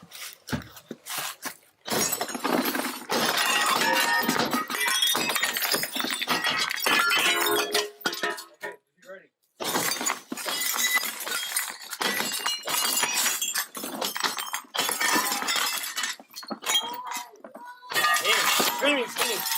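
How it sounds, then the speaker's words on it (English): Repeated crashing and shattering of window glass broken by deputies in loud bursts separated by brief pauses, with shouting voices mixed in. "Deputies break the glass"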